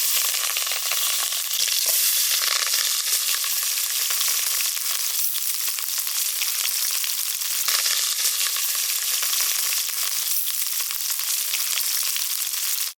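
Chicken frying in hot oil in a pot for a rooster curry, a steady dense sizzle that stays loud and close throughout with faint stirring scrapes and no talk.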